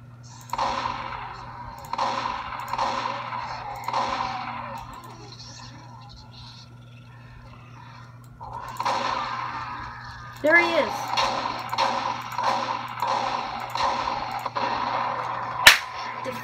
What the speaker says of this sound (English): I gotta show you guys the shotgun